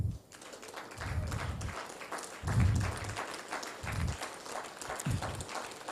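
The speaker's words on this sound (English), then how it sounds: "we can give them a round of applause" A workshop audience applauds a coordination team, with moderate clapping under a mix of room noise and shuffling as people stand, swelling and fading over several seconds.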